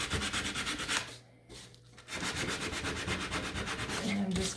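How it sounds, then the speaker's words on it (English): Hand sanding of a wooden fence with 120 grit sandpaper: steady rhythmic scratchy rubbing strokes, close and fairly loud, with a brief pause partway through before the strokes resume. "you can always take your sandpaper. Now I'm doing a 120 grit."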